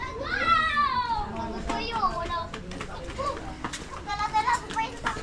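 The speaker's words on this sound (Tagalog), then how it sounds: "Pero dito mga bata naglalaro." Children play and call out at an outdoor spot in a flood-prone riverside area, their high voices rising and falling in bright bursts at middle distance, with an adult voice speaking over them now and then.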